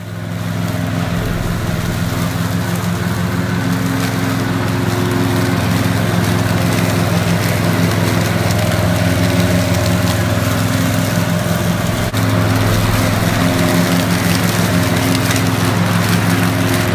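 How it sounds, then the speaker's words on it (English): A lawn mower runs loud and close while mowing a backyard of weeds and sheep fescue on a warm morning, a steady droning engine hum with a brief dip partway through and no speech. "I'm going to go out and start mowing the lawn."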